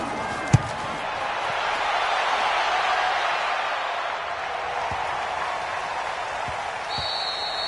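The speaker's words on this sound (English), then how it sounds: "The crowd may be losing just a little bit of the edge after back-to-back punts." Simulated stadium crowd from a Madden 20 NFL football game between the Kansas City Chiefs and Chicago Bears, a steady broad roar of many voices with a few sharp thuds, with no talk over it.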